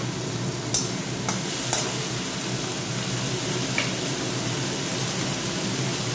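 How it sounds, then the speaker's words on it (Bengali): Panch phoron spices frying in mustard oil in a wok, a continuous loud sizzle with a few sharp scraping clicks of a spatula, no voices. "কড়াইতে পাঁচফোড়ন, সর্ষের তেলের মধ্যে পাঁচফোড়ন দিয়ে দিয়েছি।"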